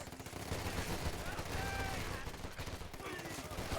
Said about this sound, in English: they're currently firing at the wrong squad and allowing these engineers to close in